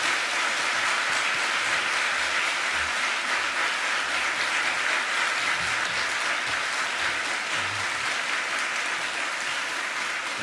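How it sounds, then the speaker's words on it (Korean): A church congregation bursts into warm applause to welcome a visiting pastor to the pulpit, a thick, even wash of clapping that holds steady at full strength for about ten seconds. "나오실 때 큰 박수로 보내주시면 환영하겠습니다."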